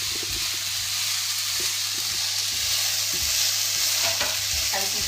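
Garlic and tomatoes fry loudly in a pan for lamb dopiaza, a steady close sizzle broken by repeated scraping stirs and utensil knocks throughout.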